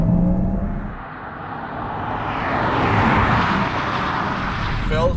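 A Porsche Taycan GTS Sport Turismo electric wagon accelerating hard under launch control, heard from the cabin as a rising whine over heavy road rumble that swells steadily, loud and continuous.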